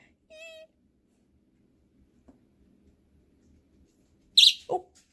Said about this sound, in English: if this is released, it lets off the loudest chirp